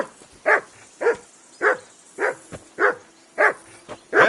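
Repeated barking from a dog in Kingdom Come: Deliverance II: about seven sharp, close barks in a steady, insistent rhythm, some followed by softer short yaps, with no talking.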